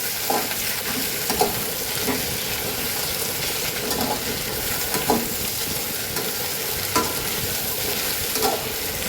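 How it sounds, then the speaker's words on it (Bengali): Potato slices and green chilies fry in a bowl of oil with five-spice seeds, giving a steady close sizzle with periodic scraping stir strokes and no voice. "আলু এবং কাঁচা লঙ্কাটাকে একটু হালকা করে ভেজে নিতে হবে"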